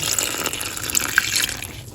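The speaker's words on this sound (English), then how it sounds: "we'll go ahead and add some water to our millet kenkey" Water poured from a container into millet kenkey dough wrapped in leaves, a steady near splashing trickle with small bright splashes, running for about two seconds on its own.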